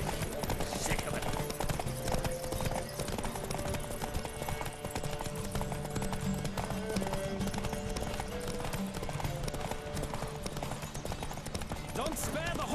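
A horse gallops in The Witcher 3 video game, rapid rhythmic hoofbeats clattering close and loud throughout, with characters' voices and game sounds over them.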